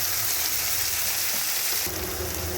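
Grated bitter gourd fries with onion and garlic in a pan, giving a steady, loud, close sizzle that runs throughout, with a slight shift as the contents settle.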